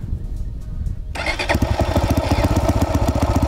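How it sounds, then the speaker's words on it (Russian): A cold Avantis enduro motorcycle in neutral on a chilly day cranks briefly on its electric starter, then fires at once and settles into a loud, steady, close-up idle. "Заводится. Заводится с полоборота."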